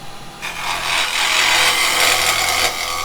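Square carbide chisel cutting into pine on a wood lathe while turning a plant pot, a steady, loud rasping scrape that swells and holds across the whole stretch with no talk.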